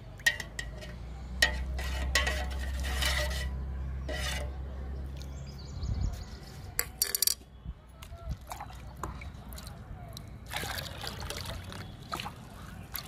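A spoon swirls a tea powder liquid meant for flowering plants, producing soft sloshing and trickling for several seconds, followed by scattered light clinks and handling noises.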